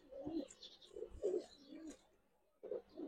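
A pigeon coos close by, a few soft, low rolling calls in quick succession, a brief pause, then another coo starting, quiet and clear.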